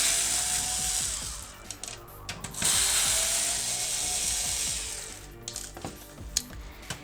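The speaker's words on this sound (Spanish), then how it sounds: "Ahora vamos a seguir quitando el resto de tornillos, que vamos a encontrar en la parte inferior" A screwdriver clicks and ratchets while Torx screws are backed out of the underside of an Xbox 360 E console, with close, repeated metallic ticks and short bursts of turning, and no talking.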